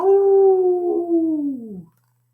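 A person imitates a wolf howl with a single long, steady, loud vocal tone that slowly bends downward and fades out after about two seconds, heard alone.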